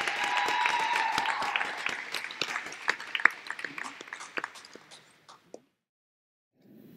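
Graduation audience applause at a high school ceremony, dense clapping that thins into scattered claps and then stops, followed by brief quiet and a faint restart.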